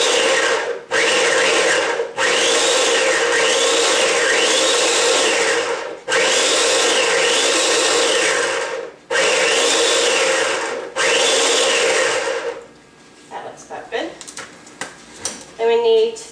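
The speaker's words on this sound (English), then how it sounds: "Put the top on and blend it up for about a minute till all the almonds are, really blended in with all the other stuff" Blender grinding almonds with other crust ingredients for almond-crusted chicken fingers, running in loud whirring bursts separated by brief stops, several pulses in a row before falling quiet to light clatter.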